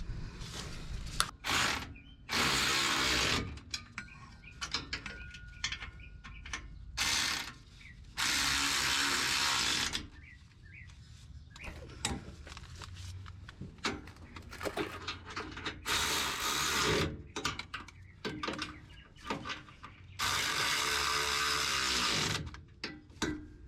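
A ratchet tightens nuts while a Rough Country 6-inch lift kit goes onto a 2020 RAM 1500 in a driveway, heard as several bursts of rapid clicking separated by quieter handling and metal knocks.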